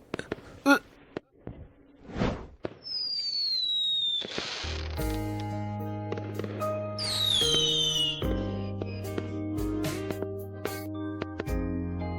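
Fireworks whistle upward and pop with scattered bangs, then music starts and plays on while a few more sharp bursts crackle over it.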